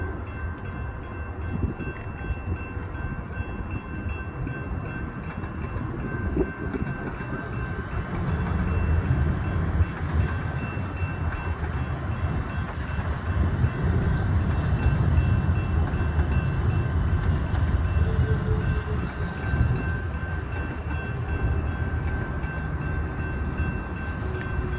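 A Calgary Transit four-car light rail train rumbles past steadily, a continuous low roar that swells in the middle and eases slightly toward the end, with no talking.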